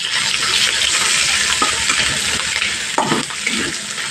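Chopped ginger fries in hot oil with cumin seeds in a pan over a low flame, a loud continuous sizzle close by, with a few brief stirring knocks near the end and no talking.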